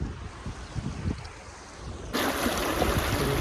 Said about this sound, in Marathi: नदीपाशी आलेलो आहे बघा आता.